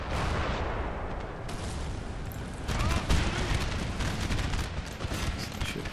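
Musket volleys from massed infantry in Napoleon: Total War, modded with Darthmod, during an Egyptian campaign battle: dense, continuous crackling fire with rolling bursts, swelling louder midway and staying steady to the end.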